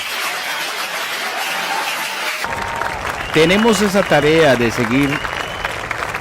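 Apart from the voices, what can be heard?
audience applause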